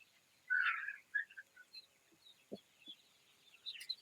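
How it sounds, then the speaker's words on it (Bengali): Chickens in a poultry farm flock of about 800 birds give short clucks and calls at a moderate distance, with a few low thumps in a quiet shed. "আমার এই খামারে মুরগি আছে ৮০০ পিস।"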